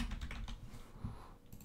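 Someone types quickly on a computer keyboard in a brief run of close, soft key clicks, with a faint game tone in the background.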